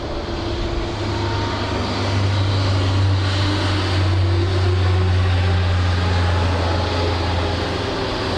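Airliner landing on runway 16 right at Sydney Airport, a steady loud jet engine roar swelling slightly as it passes, with a low droning hum throughout and no talk.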